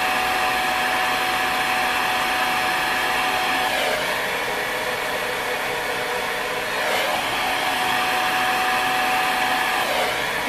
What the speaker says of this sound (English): I can barely blow dry my own hair.